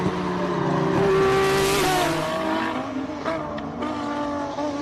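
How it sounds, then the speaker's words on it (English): Wade Van Zumeren's race car charges up the Simola Hillclimb course, its engine note climbing sharply, then dropping as it shifts and pulls away, loud and close with a rasping edge. "Great to see Wade Van Zumeren's car in complete running order, and just the sound of this thing is just magnificent"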